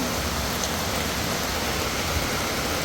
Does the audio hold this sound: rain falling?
yes